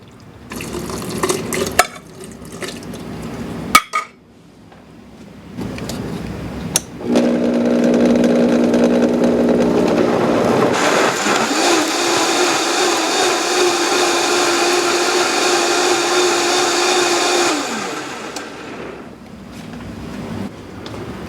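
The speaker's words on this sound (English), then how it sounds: "We're just going to blend it up nice and smooth." A blender motor whirs loudly and steadily for about ten seconds, then winds down, after a few clatters and quieter handling sounds.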